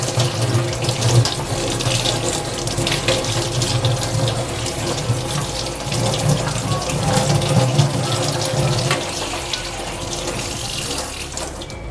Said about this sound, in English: Then you will have to just have a running tap and it can be easily washed off.